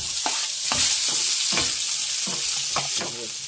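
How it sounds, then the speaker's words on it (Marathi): Chopped onion frying in hot oil on a home stove, a steady bright sizzle broken by repeated stirring scrapes about every half second, close and fairly loud with no talking. "नॉर्मल तेल तापलं आहे मस्तपैकी. कांदा टाकूया"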